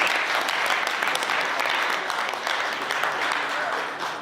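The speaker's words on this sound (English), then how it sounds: "Round of applause." An audience at a Kappa Alpha Psi alumni Founders Day gathering gives a round of applause, with dense, sustained clapping at a steady level that eases slightly toward the end.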